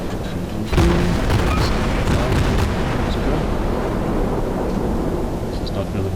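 Heavy naval gunfire in World of Warships from the cruiser Aurora, a loud boom opening the moment and then sustained rumbling blasts and battle noise for several seconds, with faint talk underneath.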